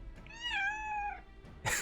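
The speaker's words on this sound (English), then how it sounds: "She does have quite a loud meow." A cat lets out one loud, drawn-out meow with a clear rising and falling tone, followed by a brief noisy rustle at the very end.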